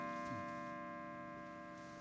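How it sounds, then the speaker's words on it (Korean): A broken grandfather clock chimes, giving one sustained, resonant bell tone that rings on steadily and slowly fades. It sounds faint and alone, with no voices. "고장난 시계에서 종소리가 들리지?"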